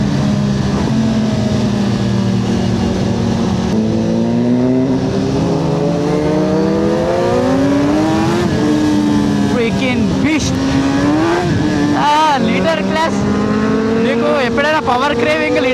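Kawasaki ZX-10R litre-class motorcycle engine roars steadily while riding, pitch rising and falling as revs build, with loud wind rush throughout and short sharp revving bursts near the end.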